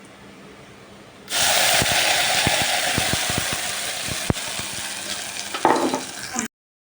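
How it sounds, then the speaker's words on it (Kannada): Sambar tempering sizzles loudly in hot oil with onion, chilli, cumin, mustard seeds and curry leaves, a sudden burst of crackling and popping that starts abruptly and holds steady, with sharp pops scattered throughout. "ಈಗ ನೋಡ್ರಿ ಸಾಂಬಾರು ಒಗ್ಗರಣೆ ಹಾಕ್ಲಾತಾಡ್ರಿ."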